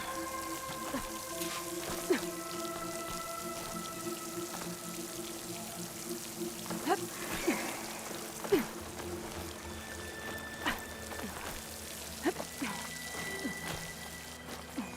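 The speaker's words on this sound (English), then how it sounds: "The water's flowing into the wall." Water in a video game pours and splashes steadily as it flows into a rock wall near a waterfall in a snowy place, a continuous rushing wash with tonal game music layered on top and occasional soft drips.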